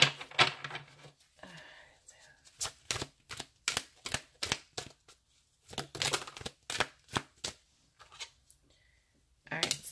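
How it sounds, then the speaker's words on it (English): A deck of tarot cards is shuffled in rapid bursts of crisp riffling snaps, several quick clusters separated by brief pauses, close and clear with no talking. "Alright, so one more shuffle."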